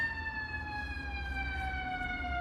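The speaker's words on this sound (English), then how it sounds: "Hold on for the ambulance." Ambulance siren wailing steadily at moderate distance, its tone gliding slowly downward as it passes, over a low traffic rumble with no speech.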